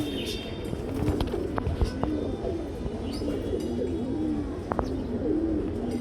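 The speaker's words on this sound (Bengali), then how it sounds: "কয়েকটা কবুতর আছে এখানে" Domestic tournament-flown pigeons coo softly and repeatedly in low rolling phrases, with light chirps and scattered background noise around them.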